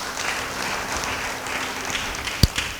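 Steady applause from a church congregation, a dense wash of clapping holding at an even level throughout, with one sharp louder clap near the end.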